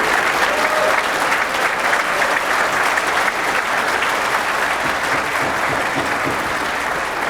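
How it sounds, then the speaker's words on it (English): Sustained applause from spectators at another table during a pool match at the 2001 US Open 9-Ball Championship, a dense continuous wash of clapping lasting several seconds. "That applause means a match ended on the other table"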